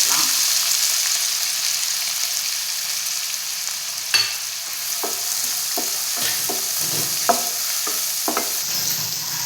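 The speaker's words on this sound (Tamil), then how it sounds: "இப்போ இது பொடுசாக நறுக்கின வெங்காயம் இதில் வச்சுக்கலாம்." Finely chopped onions sizzle as they fry in two spoons of oil in a pan for a chicken bread roll filling. A steady frying hiss runs throughout, with a series of scraping stirring clicks in the second half. No one talks.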